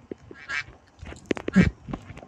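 Cartoonish duck quacks from a Roblox bird simulator game, several short honking calls scattered irregularly, fairly close and clear with no talking over them.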